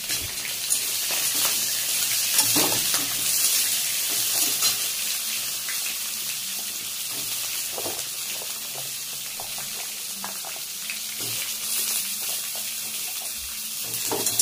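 Eggplant fries in a pan with black cumin seeds and green chilli, a steady soft sizzle with intermittent scraping and stirring noises throughout, close and without talk.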